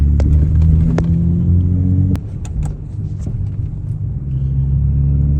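A BMW 135i with the N55 engine rumbles at a low, deep idle while pulling onto a driveway to park. Faint clicks sit over the steady engine tone, which dips briefly partway through and then settles again.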